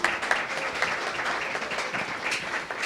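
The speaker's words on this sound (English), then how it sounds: "Give them a round of applause if you would, please." An audience at a live late-night show applauds, a short, fairly faint burst of even clapping with a few sharper claps at the start.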